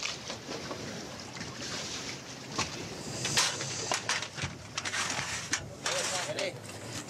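A big old boat on the open sea, with a steady rush of water and wind, some splashing and knocks, and people talking over it.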